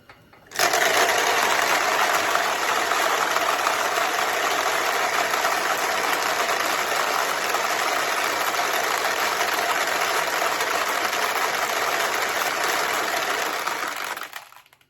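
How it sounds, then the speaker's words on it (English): A dense, continuous metallic rattle of many small balls draining out of a 1975 Sankyo pachinko machine runs for over ten seconds, starting abruptly and tapering off at the end. "let all the balls that are in the machine out"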